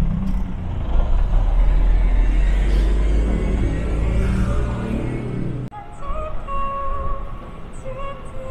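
Korean city bus, a large vehicle on a Busan street, rumbling loudly with a steady low engine drone that cuts off abruptly partway through, leaving quieter street ambience.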